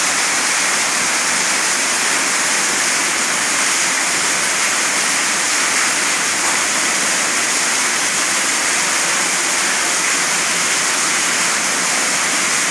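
Steady, loud roar of a waterfall inside a cave in Ilicínea, southern Minas Gerais, a dense broadband rush of falling water holding constant throughout with no talk over it.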